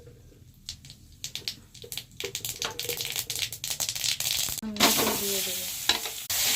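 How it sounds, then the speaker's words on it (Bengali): Mustard seeds and dried red chillies crackle and sizzle in a little hot oil for a ripe mango chutney, with bursts of popping and stirring growing louder, plus a brief spoken phrase. "এর মধ্যে তেল দিয়ে দিলাম অল্প, সরষে শুকনো লঙ্কার ফোড়ন দিয়েছি"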